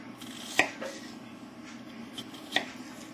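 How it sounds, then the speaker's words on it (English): A knife slicing through raw potatoes for potato soup, two distinct sharp cuts landing on a board about two seconds apart, quiet and close over a low steady room hum. "So then you're just going to slice right through them."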